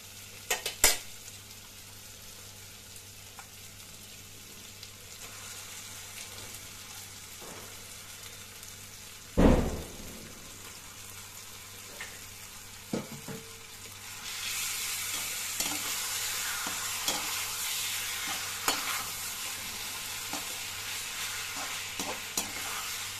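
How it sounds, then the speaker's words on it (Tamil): Chicken pieces sizzle and fry in a pan as gravy is started, with steady quiet hissing, scattered clinks and scrapes of stirring, and one sharper clatter partway through; the frying grows brighter and louder in the second half. "ஸோ சிக்கனை ஃபஸ்ட்டு போட்டுருவோம்."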